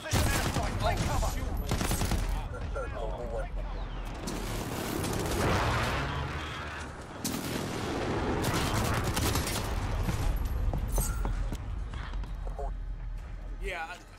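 Rapid gunfire from the video game Call of Duty Vanguard, with dense overlapping shots and bursts running almost the whole time under nearly constant excited talk.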